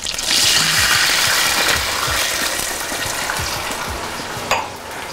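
A veal roast sizzles loudly in a pan as Riesling wine is added and cooks off, a dense hissing crackle that eases slightly with a sharp clack near the end.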